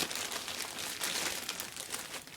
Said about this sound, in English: I'll just go ahead and rip this open